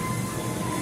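A small children's ride train at an amusement area rumbles steadily past close by, a continuous mechanical drone with a faint tonal whine and no pauses.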